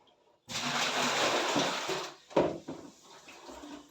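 Mint leaves are swished and rinsed in water, making a loud splashing gush for about two seconds, followed by a sharp slosh and quieter dripping movements.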